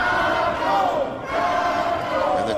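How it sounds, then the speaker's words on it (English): A wrestling crowd chants the name Taco in unison for Johnny Taco during a three-way match against Yayne Harrison and Paolo Triassi, a loud, steady rhythmic chant filling the arena with a brief dip midway. "And the Taco chants from the crowd."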